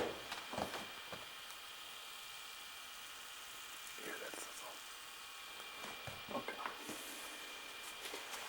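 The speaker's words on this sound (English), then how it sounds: "Oh, it's sizzling." A Cheez-It pizza on a pizza tray gives a faint, steady sizzle and hiss, with soft clatters and people talking over it.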